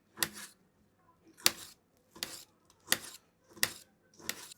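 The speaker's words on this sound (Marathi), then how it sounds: "आता आपल्याला टोमॅटो बारीक चिरून घ्यायचा आहे।" Knife finely chopping tomato: six evenly spaced, sharp board-knocking cuts, close and fairly quiet, each a short bright tap separated by near silence, with no voice.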